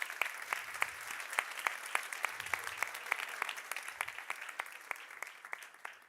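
Audience applause at the Battle of Green Talent 2023 grand finale, a steady spread of claps from a crowd holding at a moderate, slightly distant level for the whole stretch.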